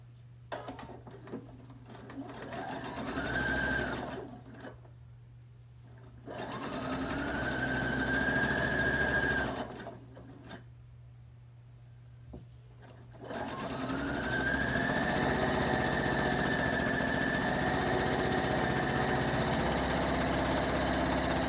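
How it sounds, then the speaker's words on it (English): A sewing machine runs in three bursts of quarter-inch topstitching on a St. Patrick's Day table runner, each a steady mechanical whir that rises to speed and stops, separated by quieter pauses with a low hum. "So I'm just going to do a little 1/4 inch stitching and sew that on."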